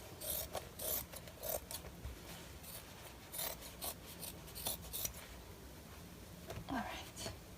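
Scissors cut through denim jeans fabric in a quiet room, a series of short rasping snips in irregular bursts, close and fairly faint, with soft speech in the background.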